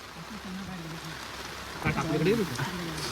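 Rain falls steadily outdoors during a village outing, a continuous hiss of drops with people talking over it.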